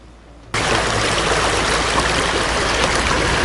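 Creek water at Taos Pueblo rushes in suddenly and continuously, a close, loud, even babbling flow with no talk over it.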